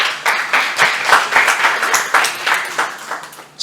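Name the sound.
audience applause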